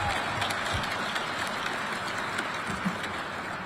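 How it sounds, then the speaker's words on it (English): Sustained applause from a ceremony crowd honoring a Junior ROTC color guard at an annual awards event, steady and moderately loud across the whole stretch with no speech over it. "How about a round of applause for the color guard?"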